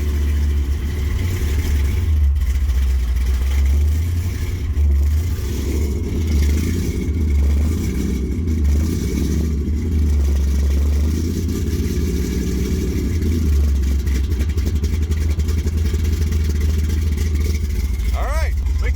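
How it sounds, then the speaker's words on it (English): A 1973 Plymouth Satellite with a 451 stroker engine idles after a cold start, a deep steady rumble with a faint rhythmic lope, while a person talks over it near the car. "All right, we call that a pretty successful cold start, don't you say?"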